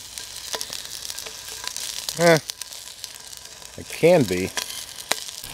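Eggs frying in a pan at an off-grid homestead, a soft, steady sizzle with light crackles and scraping stirs, close by, while someone speaks briefly in between.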